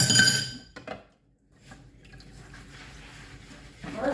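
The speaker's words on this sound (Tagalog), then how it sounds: "Hugas-hugas ng pinggan." Plates, spoons and glasses clink while dishes are washed in a hotel residence in Abu Dhabi, with a loud burst of clatter at the start, a brief pause, then softer rattling that swells again at the end.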